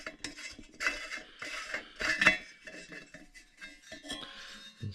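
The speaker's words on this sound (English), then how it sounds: "You just screw the burner out" Metal-on-metal clinks and scraping as the burner is screwed out of an old Burlington Route railroad kerosene lantern, a series of small close taps and rattles with quiet gaps between them.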